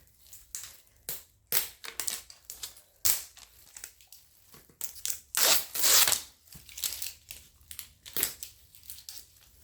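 Plastic packaging is torn and crinkled open by hand in a quick series of sharp, close crackling bursts, with the loudest rip-and-crumple around the middle before smaller rustles trail off.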